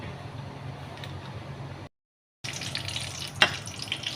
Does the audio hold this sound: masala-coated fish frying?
yes